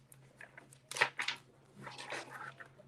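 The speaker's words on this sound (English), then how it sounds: "Spirit said, just shuffle right." Tarot cards being shuffled by hand, soft close riffling and slapping bursts, one sharper burst then a longer rustle, quiet with faint background hum.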